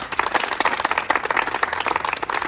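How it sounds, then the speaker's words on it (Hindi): An audience applauds the participants of a push-up challenge with a dense burst of clapping that stays fairly close and loud from start to finish. "बाकी दोनों साथियों के लिए जोरदार तालियां बजाएं"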